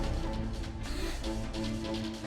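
A Newtype sound effect from the Super Robot War V video game: a brief, dense, shimmering electronic tone with layered harmonics, sounding over busy game audio.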